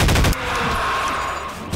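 Rapid gunfire bursts in the zombie game Garry's Mod, a fast loud burst of automatic shots up front followed by a sustained ringing tail with further distant firing.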